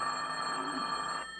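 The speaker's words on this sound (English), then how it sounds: "when his phone rang" Telephone bell ringing in an old-time radio comedy show set in a high school principal's office, a steady sustained ring heard briefly and fairly clearly before cutting off.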